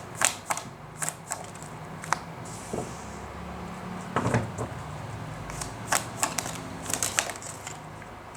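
Tarot cards shuffled and dealt during a Scorpio reading, giving a run of soft papery riffles and sharp card snaps at irregular intervals, close and fairly quiet with no talking.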